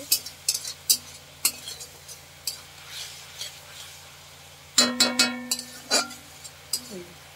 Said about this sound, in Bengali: হলুদ গুঁড়ি দিয়ে মশলাটাকে ভালো করে কষে নেব